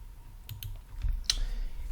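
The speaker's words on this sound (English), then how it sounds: "that's how you use a computer keyboard." Light keystrokes tap on a computer keyboard in a music production setup, a few scattered clicks, fairly quiet and close with no talk.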